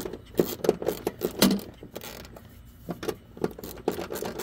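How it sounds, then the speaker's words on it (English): Coarse-threaded bolts are turned in by hand on a Husqvarna self-propelled lawn mower during drive gear replacement, giving close, irregular metallic clicks and light ratcheting scrapes in quick bursts with a short pause midway. "just go ahead and run them in by hand because they're just, they're actually coarse threaded bolts"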